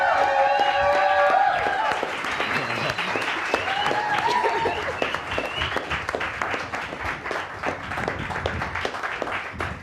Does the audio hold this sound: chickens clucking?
no